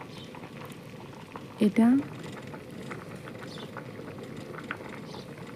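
Bamboo shoot and potato curry seasoned with turmeric, chili and salt simmers in a pot with a steady, even bubbling, and a voice speaks briefly over it.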